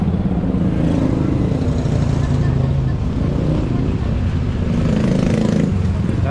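Steady road traffic rumble with engines passing, a motorcycle-like buzz among cars, continuous and fairly loud, with faint voices underneath.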